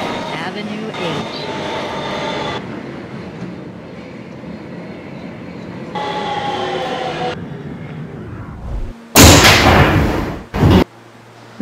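A Kawasaki R160B subway train operates as a Manhattan-bound Q local in a Roblox game. A steady rumbling drone runs underneath spoken announcements in two stretches, followed by a sudden loud burst of hiss and rushing noise near the end.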